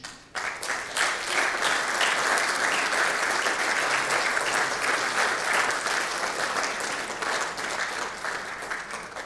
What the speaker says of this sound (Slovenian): še enkrat aplavz